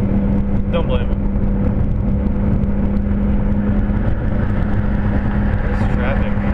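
Road traffic heard from inside a moving car makes a steady engine and tyre rumble with a low hum, loud and continuous, while a person talks over it.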